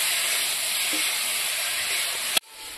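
Potatoes fry in hot oil in a village kitchen in India, a loud, steady sizzling hiss that cuts off abruptly near the end, leaving a much quieter background.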